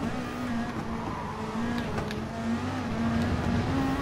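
Race cars from the Japanese GT championship in Gran Turismo Sport, including an Alfa Romeo and a Chevrolet, give a steady engine drone with a constant pitch and some revving, loud and continuous.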